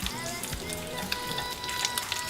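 Bacon strips sizzling and crackling steadily in a hot frying pan over a gas flame, a dense continuous hiss with scattered pops, close up, with no one talking.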